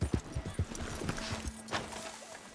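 Horse hooves clip-clop at a walk in Red Dead Redemption 2, a run of close, evenly spaced thuds in the first second and a half, followed by a softer, steady background.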